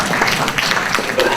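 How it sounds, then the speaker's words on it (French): Audience applause at a lecture by Cedric Villani, a burst of many hands clapping close and fairly loud, with an irregular patter of individual claps across the whole stretch. "On applaudit."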